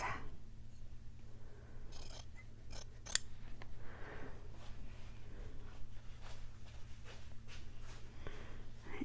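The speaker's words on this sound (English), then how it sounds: "So we are going to cut these in half." Scissors snipping through jelly roll fabric strips to cut them in half for a sewing project, a series of crisp close cuts at irregular intervals over a steady low room hum, with no talking.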